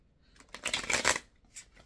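Tarot cards are shuffled by hand in a close, soft riffling burst that peaks in the middle, then trails off with a brief second flutter.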